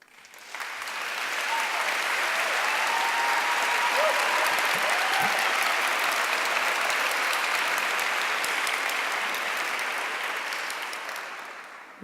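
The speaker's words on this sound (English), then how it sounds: "I'm afraid to speak after the warm applause that you have given me." A large audience at a public dialogue event bursts into warm, sustained applause that swells quickly, holds dense and steady for several seconds, then tapers off, with no talking over it.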